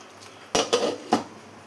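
A lid set down on a metal pot of thick white chickpea curry, made without coconut or potato, giving three separate clattering knocks in under a second, close and fairly loud against a quiet kitchen.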